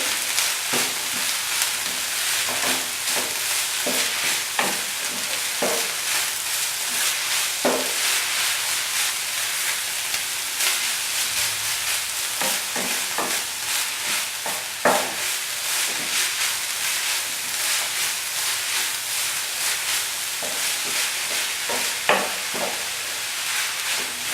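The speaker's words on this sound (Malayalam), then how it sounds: "നന്നായിട്ട് ഇളക്കി" Taro stem stir-fry being stirred in a pan, a constant close sizzle broken by repeated scraping and clacking strokes of a spoon, with no talk.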